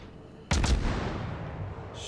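Naval guns fire in World of Warships, one sharp loud boom that hits abruptly and rolls off into a lingering rumble, with no voice over it.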